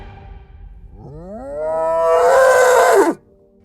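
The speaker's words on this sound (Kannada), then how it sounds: "ಒಂದು ಎತ್ತು," A single loud, drawn-out bull bellow that rises in pitch, swells, then cuts off abruptly, heard alone and close.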